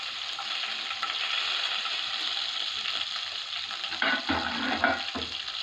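Garlic and curry leaves fry in a hot pan with a steady, bright sizzle, close and fairly loud, with a few louder spits and stirs near the end; no one speaks.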